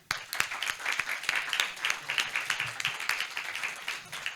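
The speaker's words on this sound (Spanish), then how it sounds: "los invito a darles a los expositores una cálida bienvenida con un aplauso" Audience applause welcoming the speakers at a family-law conference: a steady, dense patter of many hands clapping fills the room with no talk.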